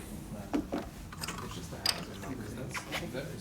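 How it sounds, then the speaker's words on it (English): A wrench works a nut loose on a 1974 Harley shovelhead 74ci FX bobber, making faint metallic clicks and a ratcheting creak in a few short bursts close by, with quiet talk in the background. "So take your wrench, undo that nut."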